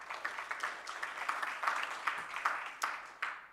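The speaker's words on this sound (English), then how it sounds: "If you can give her a round of applause." Audience applause at a MICT SETA stakeholder roadshow in Gqeberha, welcoming a senior manager: a moderate, fairly quiet patter of clapping that holds steady with small surges, with no talk over it.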